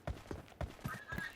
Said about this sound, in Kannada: ಕುದುರೆ ಐತಿ ನನ್ ಮುಂದೆ.